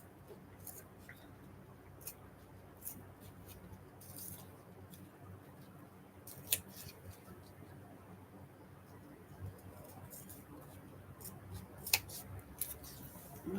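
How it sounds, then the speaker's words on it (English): Small scissors snip through vinyl in faint, scattered clicks and crisp cuts, close but quiet, over a soft rustling background. "I love these scissors for cutting vinyl as well"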